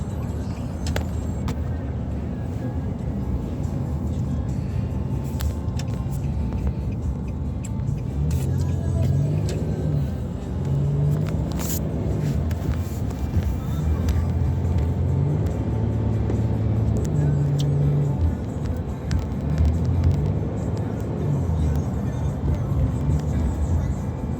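Road traffic in Dubai, with cars passing in a steady, close engine rumble and road hiss that never lets up, and faint voices low in the mix.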